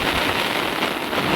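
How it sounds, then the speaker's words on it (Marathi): Heavy rain pours over paddy fields during planting season in Konkan, a dense steady hiss of falling drops with some wind, close and loud, with no one speaking. "पाऊस बघा"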